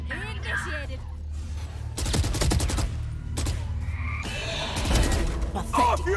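Valorant swarm grenade and gunfire: rapid bursts of automatic fire and crackling blasts come in two loud clusters, mixed with clattering impacts and game voice lines.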